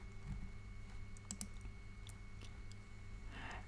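Mouse and keyboard clicks while working in Excel Power Query, a few faint, sparse clicks over a low steady hum in a quiet room.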